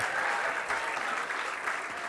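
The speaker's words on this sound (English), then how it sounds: "Let's give another round of applause to our graduates for a job well done." Steady applause from a sizable crowd at a graduation ceremony, continuous clapping at moderate volume with no pauses.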